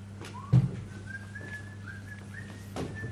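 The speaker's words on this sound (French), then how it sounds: "Ça vous ferait rien d'arrêter ce sifflet?" A person whistles a faint, wavering tune in a quiet room, short rising and gliding notes repeated several times, with a soft thump near the start and a low steady hum underneath.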